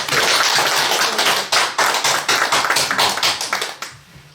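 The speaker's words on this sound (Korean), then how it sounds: "하나님께 박수" A church congregation at an Easter service claps their hands together in dense, lively applause that fades out near the end.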